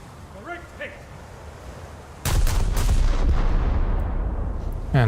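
Naval guns in a warship video game fire secondary batteries loaded with SAP shells, bursting in loud, rapid overlapping booms that sustain a dense rumble after a quiet stretch with faint voice earlier.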